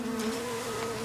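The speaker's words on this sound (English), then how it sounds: "450 buzzing hives from North Dakota to California for the winter" Steady, droning hum of honey bees buzzing in hives loaded on a truck, continuous and close with no break.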